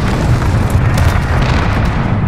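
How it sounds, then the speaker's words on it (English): A helicopter crashes and explodes in Call of Duty: Modern Warfare, a loud, sustained, rumbling boom that fills the whole moment with heavy low roar and no talk. "Crash into the chopper."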